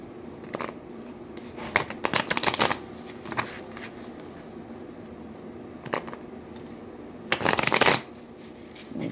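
Oracle cards shuffled for a daily collective reading, with several bursts of crisp riffling and card slaps, the loudest near the start and end, separated by quieter pauses.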